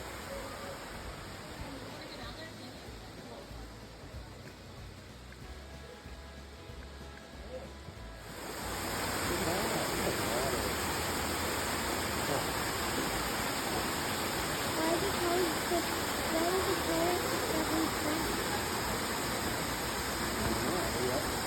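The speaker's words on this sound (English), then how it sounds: "That's the waterfall that we saw." A waterfall at Hocking Hills near Logan, Ohio, sends out a continuous broadband roar, softer and more distant at first, then suddenly fuller and close for the rest of the clip.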